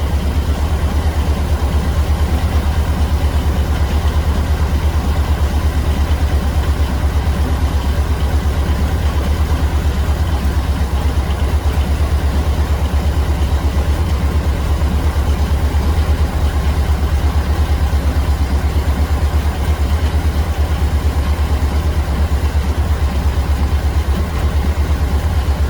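A 1600 VW Beetle engine with a 34 PICT3 carburetor idles steadily and evenly at about 950 RPM, a low constant rumble with light mechanical clatter and no voices.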